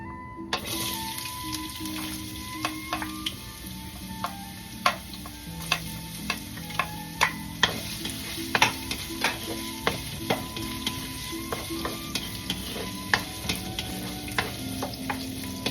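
Ginger fries in a pan for sinanglaw beef, a steady sizzle punctuated by frequent clinks and scrapes of a utensil stirring, close and moderately loud, with no talk.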